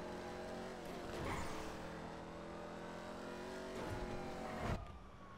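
A car in the video game GTA, its engine droning and revving with a couple of sharp swells and a skid-like burst, heard alone without talk.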